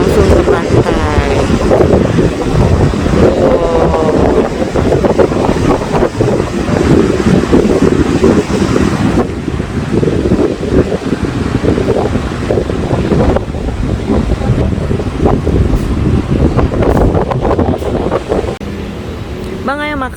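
Wind buffets the microphone on the beach at Pelabuhan Ratu, seen from a seaside restaurant, while waves roll in as a loud, constant roar, with voices talking now and then.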